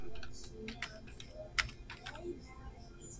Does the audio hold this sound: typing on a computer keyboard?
yes